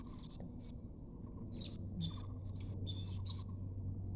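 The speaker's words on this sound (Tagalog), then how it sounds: "Yung ibon doon sa may poste. Lawin." A hawk perched on a light pole in Taiwan gives a series of short, high, piercing calls in irregular bursts over a steady low outdoor hum.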